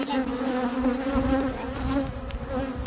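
Honey bees swarm and buzz loudly and steadily around an open horizontal top-bar hive during a honey harvest, a dense, agitated drone with a strong hum that never lets up.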